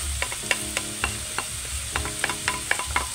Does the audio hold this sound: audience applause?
no